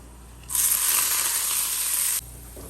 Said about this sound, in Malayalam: എന്നിട്ട് ഇച്ചിരി കറിവേപ്പിലയും ഉള്ളിയും കൂടെ ഇട്ട്